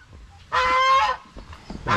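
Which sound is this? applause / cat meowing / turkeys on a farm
turkeys on a farm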